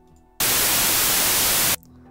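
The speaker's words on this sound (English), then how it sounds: "it's actually just generating pure white noise" A Reaper JS white noise generator switches on abruptly, hisses as a loud, flat burst of broadband noise for just over a second, then cuts off sharply into quiet.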